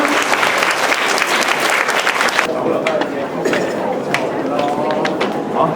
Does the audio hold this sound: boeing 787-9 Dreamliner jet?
no